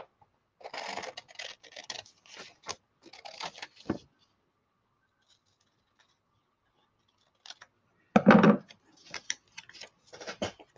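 Scissors snip through a printed double rose paper design in quick bursts of crisp cuts. A long quiet pause falls between the bursts, then louder close cutting resumes.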